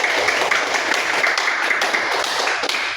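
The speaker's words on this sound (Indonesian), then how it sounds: "Tepuk tangan dulu untuk kita semua." Children in a primary school classroom clap their hands together, a dense, fast patter of many small palms sustained loudly and evenly throughout.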